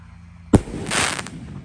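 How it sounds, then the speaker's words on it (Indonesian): A Roman candle firework at a festive night celebration ahead of Lebaran gives one sharp, close launch pop, followed by a hissing, crackling burst that swells and then fades. "Pesta kembang api guys, spesial menuju Lebaran."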